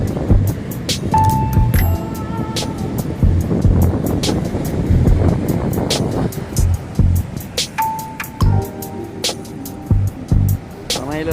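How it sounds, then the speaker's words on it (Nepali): Ocean waves wash onto a beach, a broad rushing surge that rises and falls beneath steady nearby talk, with some wind buffeting the microphone. "ल यो छाल आउँछ अगाडिबाट सर्र होइन, यस्तो दामी छाल आउँछ"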